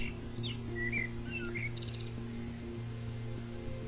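Birds in the woods of the video game Nevermind chirp and tweet in short, bright bursts over a low, steady droning tone, the calls clustered early and thinning out later.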